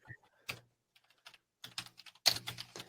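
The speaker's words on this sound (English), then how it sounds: "I'm typing up NHL teams in alphabetical order" Computer keyboard typing in quiet, irregular bursts of key clicks, sparse at first and then a denser, louder flurry of keystrokes toward the end, with no talking.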